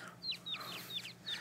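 Short, high chirpy clucks from a cartoonish chicken in Billy Hatcher and the Giant Egg repeat four times at a quick, even pace, with a faint backing hum underneath.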